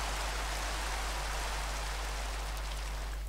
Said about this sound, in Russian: О, дождик прошел, наконец-то.